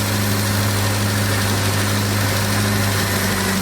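A 1979 Triumph Spitfire engine idles steadily after starting, a continuous low mechanical rumble with a steady hum, close and loud, no voices.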